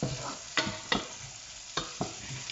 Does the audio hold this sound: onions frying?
yes